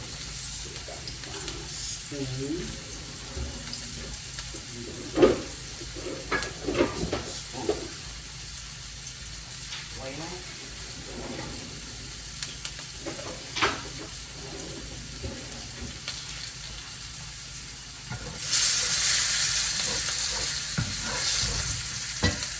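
Onions frying with flour in a hot pan, a steady sizzle running throughout with scraping stirring strokes, and a louder burst of sizzling near the end.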